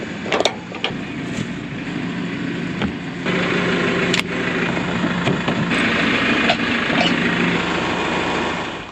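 A Case tractor engine runs steadily during a silage harvest on a farm, a constant droning hum with a few knocks and clunks, no talking.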